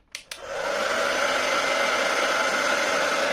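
A couple of quick clicks, then a hair dryer powered by a hybrid inverter on battery backup whirs on, unheated at 250 W, running with a steady, loud rushing hum.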